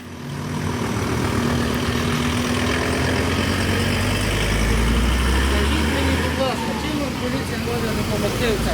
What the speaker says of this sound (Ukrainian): давайте пропустимо машину.